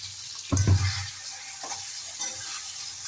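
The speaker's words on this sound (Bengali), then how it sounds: "নাড়তে থাকতে হয় কন্টিনিউ, না হলে এটা তলায় লেগে যেতে পারে।" Cauliflower stirred in a pan with a little hot water added for a Bengali malai cauliflower dish, giving a brief scraping sizzle near the start followed by a quieter, steady simmering hiss.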